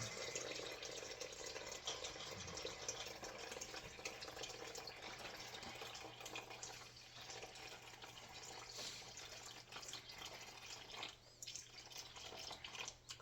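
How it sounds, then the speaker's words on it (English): Room-temperature water pours steadily into a bowl of bread dough mix, about 720 grams, a continuous close splashing wash that runs for the whole stretch with small dips in level and no talking. "So we're going to add 720 grams of room temperature water."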